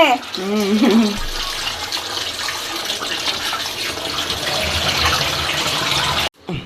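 Cooking oil, a quarter kilo for a 1.5 kg mutton biryani, pours into a pot as a steady liquid rush lasting several seconds after a brief voice at the start, cutting off abruptly near the end.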